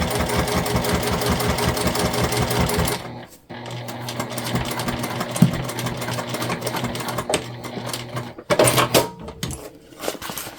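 A sewing machine stitching a crossbody bag runs loud and steady, stops briefly, then continues in a lower hum with clicks and short bursts, and a final fast stretch of stitching.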